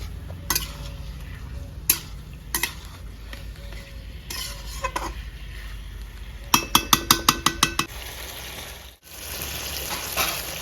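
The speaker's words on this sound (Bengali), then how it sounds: "2-3 মিনিট কষে নিলাম গ্রেভির সঙ্গে ফুলকপিকে" Cauliflower is stir-fried in a spicy gravy in a village-style pan for a bata fish curry. Soft sizzling sits under intermittent scrapes and clinks, then a quick run of about seven rhythmic knocks of the spatula against the pan.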